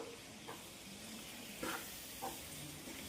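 Gongura chicken fry with curry leaves, coriander and kasuri methi is stirred in a pan, giving a faint, even sizzle with a few quiet scrapes of the spoon.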